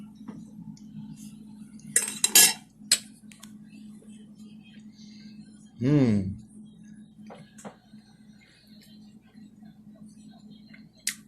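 A fork scrapes and clinks on a plate while scooping hamburger hash potatoes and meat, a few sharp close metallic clicks and a brief scrape, with a low hum and a voice murmuring quietly.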